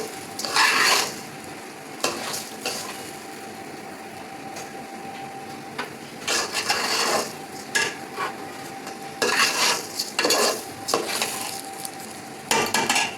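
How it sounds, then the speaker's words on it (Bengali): Polao rice being stir-fried in a pan for a chicken white rice dish, with repeated bursts of scraping and stirring over a steady low sizzle, some sharp utensil clatter against the pan, close and fairly loud. "পোলাওটা ঝরঝরে হলে ভেজে নিব অল্প কিছুক্ষণ"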